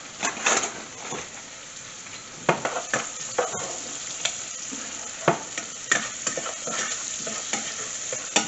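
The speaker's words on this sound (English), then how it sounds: "put some garlic in there, put our thyme leaves in there, our chopped thyme, give it a stir" Garlic and chopped thyme sizzle in a pan over medium-low heat while a utensil stirs them, with scraping strokes and soft clinks coming at irregular intervals over a steady frying hiss.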